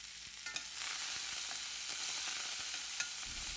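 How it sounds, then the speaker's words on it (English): Urad dal, hing and coriander leaves sizzle steadily in hot oil for a tempering, with a dense crackling fry and occasional soft stirring clicks, close and continuous with no talk. "Mix it very well until urad dal turns light brown"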